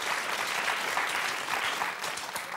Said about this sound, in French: on va vous applaudir déjà, Patricia, Céline